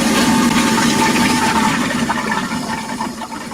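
A toilet flushes with a loud, steady rush of water that slowly fades over a few seconds, heard alone and up close.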